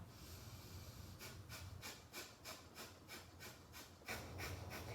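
Seated in a chair yoga session, someone does breath of fire, a quick, even series of short forceful nasal exhalations, about four per second, quiet and close after a brief pause, with no talk.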